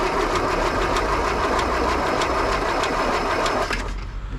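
An old Land Rover engine running in gear, a steady close mechanical chugging and clatter with a rapid even rhythm that drops away near the end.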